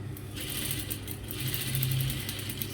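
A sewing machine stitches a curved side pocket onto a boubou kaftan gown, a close mechanical whir with a rapid rattling needle rhythm and brief pauses, no speech.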